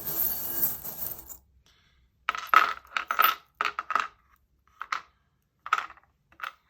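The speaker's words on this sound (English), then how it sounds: "I'm gonna quickly do the charm, so if you don't like the sound, please lower down your sound" Small charms shaken in the hands with a soft jingling rustle, then dropped for a reading in a series of sharp, close clinks and taps, irregularly spaced with quiet gaps between them.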